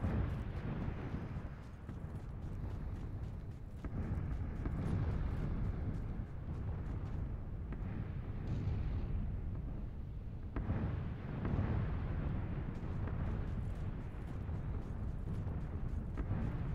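Rumbling, booming blasts of a bombing-zone barrage in the battle royale game PUBG, a dense continuous roar with repeated heavy impacts swelling and falling, loud and close throughout.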